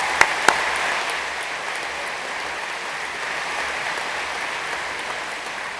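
A graduation ceremony audience applauds steadily in a large hall, a dense wash of clapping that holds evenly throughout, with a couple of sharp louder claps near the start.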